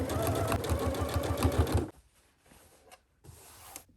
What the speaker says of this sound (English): I highly recommend taking your time with this step at the sewing machine